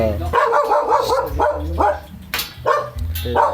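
Dog barks in short bursts, several in quick succession, mixed with nearby voices and background noise.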